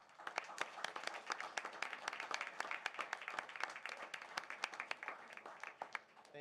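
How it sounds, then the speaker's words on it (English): Sustained round of applause from the audience at a city council meeting in Saline, dense overlapping claps with sharp individual peaks, moderately distant and steady for several seconds with no talking over it. "Let's give these young ladies another round of applause."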